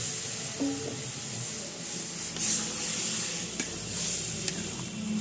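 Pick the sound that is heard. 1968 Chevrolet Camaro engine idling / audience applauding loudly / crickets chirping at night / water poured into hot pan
water poured into hot pan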